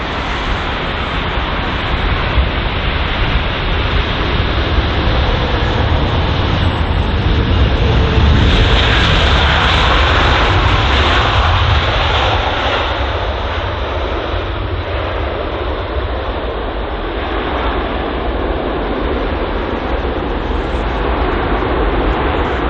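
An Airbus A350 lands at London Heathrow in gusty crosswinds, its engines a loud, steady, broadband roar that swells near the middle and then holds as the jet comes down close by.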